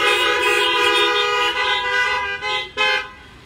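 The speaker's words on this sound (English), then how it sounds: "Let's get my horn honking in the house." A horn honks in a sustained, buzzy blare that holds loud and steady, then breaks into a few shorter toots near the end, with no talk over it.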